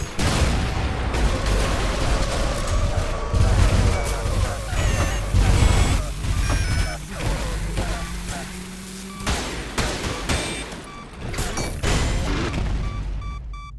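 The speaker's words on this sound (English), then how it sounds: "a really big fucking explosion" ULTRAKILL gameplay is full of chaotic combat sounds, with heavy booms, crashes and rapid gunfire overlapping in a dense, loud barrage, and someone talks over the action.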